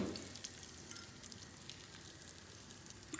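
Butter browning in a pan gives off a steady, close sizzle and crackle of fine popping, even and continuous throughout with a slight swell at the very end.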